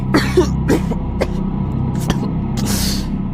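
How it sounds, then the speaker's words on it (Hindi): Several dry coughs and throat-clearing bursts break out one after another over a steady low hum, close and fairly loud. "धुआं इतना अधिक था कि उसे खांसी आने लगी"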